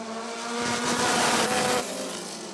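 Illini midget race cars roar past on the Rockford Speedway oval, a loud engine drone that swells as the pack passes close and then fades slightly.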